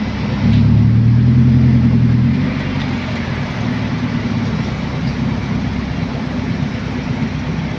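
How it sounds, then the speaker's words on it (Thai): Heavy road traffic jammed after an earthquake in Thailand, a dense steady rumble of idling and creeping vehicles with a louder engine swell near the start, continuous and without talk. "โหรถติดมากเลยครับ"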